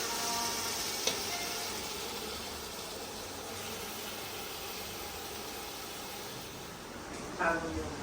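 Meat roasts and sizzles in a pan in a village kitchen, a steady hiss of frying that runs without a break, with a brief clink near the start and a small burst of crackling toward the end.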